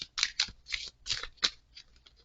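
Tarot cards are shuffled and drawn: a series of crisp, papery riffles and flicks in quick, uneven bursts, close and fairly quiet, with no talking.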